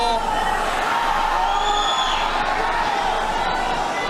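Steady crowd murmur fills a weightlifting arena at the 2005 World Championships during a heavyweight +105 kg clean and jerk attempt, a continuous din of voices, whistles and scattered shouts with no single standout burst.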